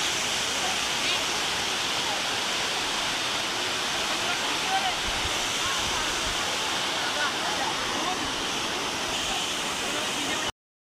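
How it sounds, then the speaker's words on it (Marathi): A small stream runs through forest on a jungle trek near Savli fort, giving a continuous, even rush of flowing water at moderate volume that cuts off abruptly at the end. "छोटा नाला आहे"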